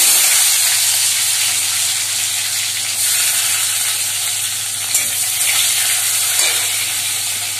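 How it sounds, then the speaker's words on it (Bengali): Potatoes fry in oil in a kadai with a loud, steady close-up sizzle and hiss, broken by a couple of brief stirring clinks. "এই যে আলু দিয়ে দিয়েছি, তারপর আলুটা একটু ভাজা হলে তারপরে ভেন্ডিটা দিয়ে দেবো।"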